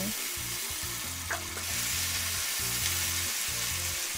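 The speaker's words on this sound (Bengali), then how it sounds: "আবারও পানি দিব প্যানের মধ্যে ও নেড়ে চেড়ে নিব" Close, continuous sizzling of chickpeas in a pan with rhythmic scraping strokes as they are stirred, a brief splash-like burst near the start as water is added.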